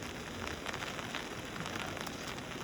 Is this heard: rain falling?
yes